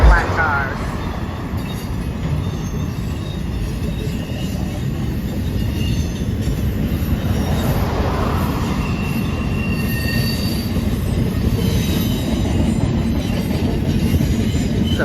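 A CSX freight train, the M650, rolls past with a long string of boxcars and some black TOFC flatcars. It makes a steady, loud rumble throughout, with wheel squeal and rail noise and no talking.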